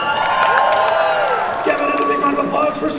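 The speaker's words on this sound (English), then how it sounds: "Give another big round of applause for The Conjuring!" Crowd applause and cheering at a Six Flags Fiesta Texas Fright Fest announcement event, with continuous clapping and whoops and a loud amplified announcer voice over it.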